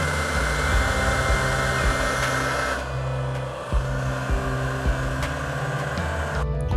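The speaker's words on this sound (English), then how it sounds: "I'm gonna put this heat shrink on now" A heat gun blows a steady, close, fan-like roar while shrinking heat shrink tubing onto motorcycle wiring, with brief dips in the hum and no talking.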